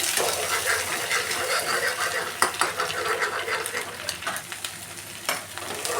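An egg fries on its own in a pan, giving a steady, close crackling sizzle with a few sharp clinks of a utensil against the pan, no voices.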